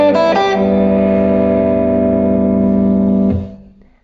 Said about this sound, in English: if I do it freely, so my hand isn't on the guitar, the other strings continue to ring out and make noise.